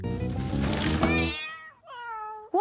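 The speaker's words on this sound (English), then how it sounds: "A cat stuck in a tree on Main Street." A cartoon kitten stuck high in a tree meows in long, wavering cries, loud and close, with a rising final mew after a short pause over a busy musical background.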